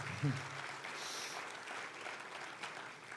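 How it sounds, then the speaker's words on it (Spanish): A church congregation applauds during a sermon, a steady wash of many hands clapping, fairly faint and distant, with a brief voice near the start. "Dele un aplauso a Dios por eso."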